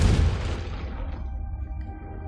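A Confringo blasting spell from Hogwarts Legacy goes off as one loud, deep boom. Its rumble fades over about two seconds, leaving a faint tonal hum.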